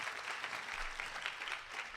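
A steady, dense wash of applause from a seated assembly at a morning sabha gathering, many hands clapping together at an even level throughout, with no voices above it.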